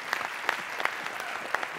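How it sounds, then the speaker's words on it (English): Audience applause for a presenter named Dan at a sales training event, steady dense clapping throughout with a few sharp louder claps standing out. "let's give Dan a huge round of applause"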